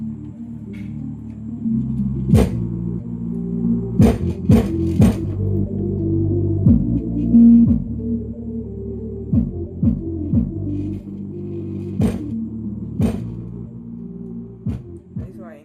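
A Creative 2.1 home theater 5.5-inch subwoofer pumps deep, booming bass in steady throbbing tones, loud and close, punctuated by sharp hits over roughly fifteen seconds.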